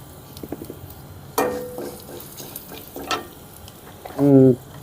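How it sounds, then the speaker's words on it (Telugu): Cumin, mustard seeds, dried chilli pieces, curry leaves and asafoetida tempering in hot oil, a soft close crackle punctuated by sharp spits and pops, with brief clanks and scrapes and a short tonal clatter near the end. "ఇప్పుడు ఈ పోపులో కొద్దిగా ఇంగువ వేసుకుందాం"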